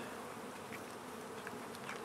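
Honeybees buzz steadily at an open hive during comb building, a dense, continuous drone from many insects close by, with brief louder whines as individual bees fly near.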